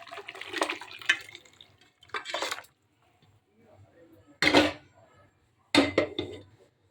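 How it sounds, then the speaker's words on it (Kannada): Boiled mutton legs go into a pot of freshly ground masala, giving a few separate close clattering, wet plops with quiet pauses between them. "ಇವಾಗ ಬೆಂದಿರೋದು ಕಾಲು ಅದಕ್ಕೆ ಹಾಕೋಣ."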